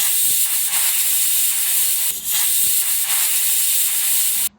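A pressure cooker cooking soya chunks biryani lets out a loud, steady steam whistle, a continuous hiss held for several seconds before cutting off abruptly.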